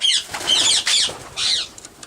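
Racing pigeons flap their wings close by in a loft at a one-loft race, several loud bursts of flapping in quick succession, then a few fainter flutters.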